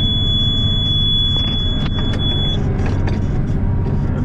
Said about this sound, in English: Payloader's beeping